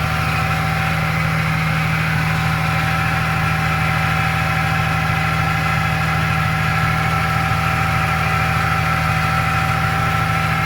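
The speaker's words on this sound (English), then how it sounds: "I think the idle is quite high also. The noise is coming from the power steering pump," Toyota Supra mk3 engine idling high with a whining power steering pump, a steady close drone with a constant low hum and tonal whine that holds unchanged and alone throughout.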